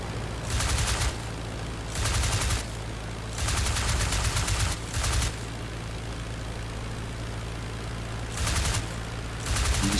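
Repeated bursts of aircraft machine-gun fire from the IL-2 Flying Circus flight game rattle out in short volleys over a constant propeller engine drone, five or six loud bursts spread across the stretch.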